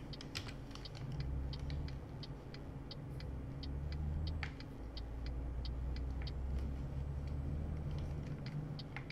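Truck engine in Euro Truck Simulator 2 drones at a steady low rumble while driving, with quick clicking keystrokes over the top and no talk.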